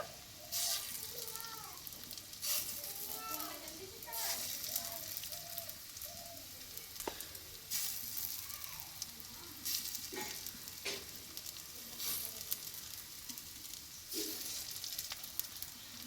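Masoor lentil fritters (bora) frying in a shallow layer of oil, giving a steady, fairly soft crackling sizzle with occasional sharper pops and scraping clicks throughout, with no talking.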